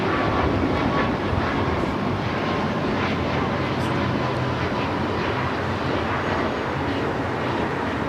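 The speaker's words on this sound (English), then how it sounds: "557 taking off to Vancouver on the MAX 8" An Air Canada Boeing 737 MAX 8 jet takes off at LAX, producing a continuous broad engine roar that stays steady and fairly loud throughout, with a voice talking over it.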